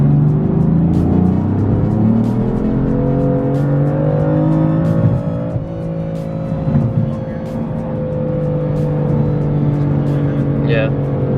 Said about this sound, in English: 2 third gear pulls from 2500 to 6500 to 7, around there, and then I'll do 2 fourth gear pulls.